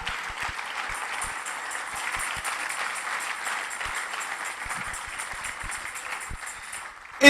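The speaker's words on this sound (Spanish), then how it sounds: "Dele fuerte el aplauso al Señor" A church congregation claps loudly during a Spanish-language sermon, producing dense, steady applause that holds at an even level for several seconds and ends with a brief louder swell.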